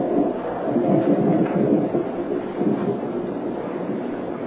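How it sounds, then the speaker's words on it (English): A night thunderstorm rolls on without a break: a deep, loud rumble that swells near the start and again past the midpoint, with no one speaking. "Does the storm disturb you?"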